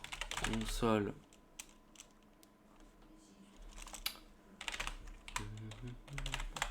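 Code typed on a computer keyboard, a run of quick, light key clicks and taps in the middle, close and quiet, with someone talking before and after.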